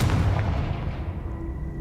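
A Confringo fire spell exploding in Hogwarts Legacy, heard as a single deep, booming blast that fills the short moment and slowly rumbles away.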